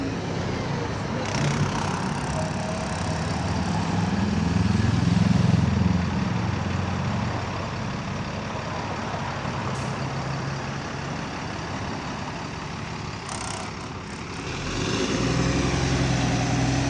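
Bus engine running close by at Shooters Hill, a steady loud diesel rumble with a swelling surge midway and again near the end, a faint high turbo whine riding over it.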